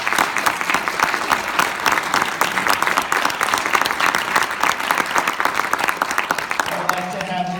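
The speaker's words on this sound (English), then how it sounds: "Let's give Joshua a clap." A crowd at an Eagle Scout ceremony applauds for the new scout, dense sustained clapping that holds loud and even throughout, with a voice briefly audible near the end.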